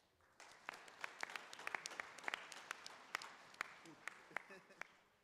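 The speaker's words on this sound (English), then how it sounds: "Can we please give a bigger applause?" Conference audience at the East African Court of Justice judicial conference applauding, a steady patter of many hands with sharp individual claps standing out, heard at a moderate distance and fading near the end.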